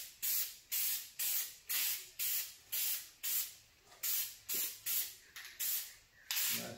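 Spray paint from a shaken aerosol can laid down as a second coat in a series of about ten short, even bursts, each a steady near hiss with brief pauses between passes.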